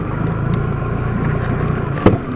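A boat engine drones steadily and low throughout while the boat is being moored, with a sudden knock or thump near the end.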